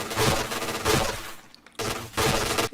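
Rapid bursts of automatic gunfire from a shooter video game, loud and dense, broken by a brief lull before firing resumes.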